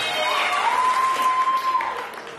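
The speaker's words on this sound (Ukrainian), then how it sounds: "поаплодируйте немножко" An audience at a stand-up comedy show claps in a continuous, moderately loud patter, with a sustained voice-like tone running over the clapping for most of its length.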